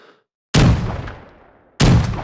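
Two booming double-barrel shotgun shots with slugs in Rising Storm Vietnam, each loud and sharp with a long echoing decay, spaced about a second and a quarter apart after brief silence.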